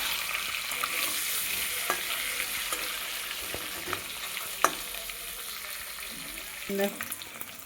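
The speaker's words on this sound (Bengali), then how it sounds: "ডিমটাকে কিন্তু আমি ভালো করে ভাজা ভাজা করে নিচ্ছি লাল লাল করে" Beaten eggs with salt and turmeric fry in hot oil in a pan, a soft continuous sizzle broken by scattered clicks and scrapes from stirring, with one sharper knock midway.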